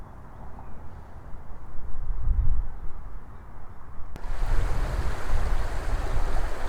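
Steady broadband rush of creek water flowing past stepping stones along a Pflugerville trail, continuous and fairly close, growing fuller and louder partway through with no voices.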